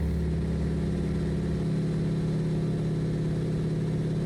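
An overstressed T-6 Texan engine in X-Plane 12 drones loud and close, then its low rumble turns choppier partway through into a rapid, rhythmic knocking pulse, with no one talking.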